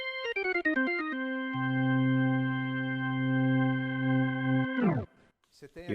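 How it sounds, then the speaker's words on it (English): Organ voice on a Yamaha MODX synthesizer, a sustained chord with a quick run of notes leading in, holding steady for several seconds before cutting off, followed by a brief faint noise. "This organ timbre, when you turn it on, sounds like this."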